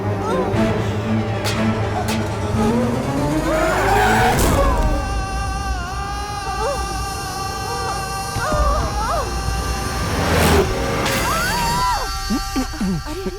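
A car pulls up with tires skidding and squealing in two sharp bursts a few seconds apart, loud and near over a continuous engine roar in a dramatic film scene.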